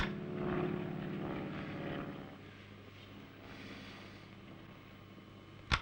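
A propeller airplane drones overhead, loudest at the start and then fading to a distant hum, before a short sharp knock right at the end; no one speaks.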